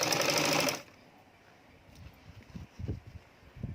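A sewing machine running a plain seam on a tailored collar job, a dense whirring burst for under a second that cuts off abruptly, followed by faint handling knocks and rustles.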